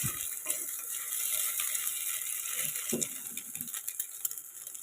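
Egg being scrambled into bhujia in a pan, with a spatula scraping and stirring in irregular strokes over a soft background sizzle.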